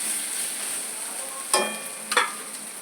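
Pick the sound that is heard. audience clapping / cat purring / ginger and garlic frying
ginger and garlic frying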